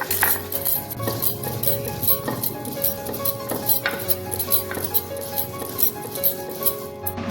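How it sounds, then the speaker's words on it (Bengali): Cumin seeds are ground on a stone shil-pata slab with repeated scraping and gritty rubbing strokes in an uneven rhythm, close by and fairly loud, with occasional clinks. "আমি জিরেটাকে পাটায় বেটে নেব, শিলপাটায়।"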